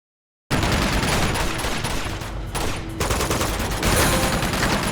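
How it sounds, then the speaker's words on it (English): Dense, continuous M4 assault rifle fire from Uncharted 2, loud and close, with sustained bursts and a short break in the middle. "I then killed 50 enemies with the M4, which is like an assault rifle type."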